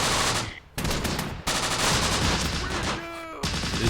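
Bursts of machine gun fire from the Close Combat video game, with Italian Bersaglieri troops and a Breda gun, rattle loudly in rapid volleys with short gaps and a few ringing tones between.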